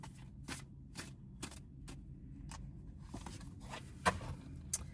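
Tarot cards are shuffled in a series of quick, soft riffling bursts, close and quiet, with small taps between them.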